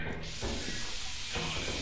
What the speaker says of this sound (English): There's steam here.